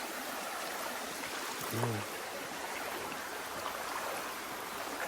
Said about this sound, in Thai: ทุกคนน้ำไหลเชี่ยวมาก แล้วก็เย็นมากๆ